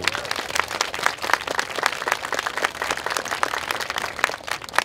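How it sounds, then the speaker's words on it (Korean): An audience at an emergency university debate forum in Korea applauds, a busy, fairly loud patter of many hands clapping continuously for about five seconds. "이분들한테 큰 박수"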